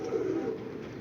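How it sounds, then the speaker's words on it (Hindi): Domestic pigeons cooing at close range, a soft low cooing warble lasting about a second with no one speaking. "कबूतर चेक कर लो, ध्यान मार लो कबूतरां नूं"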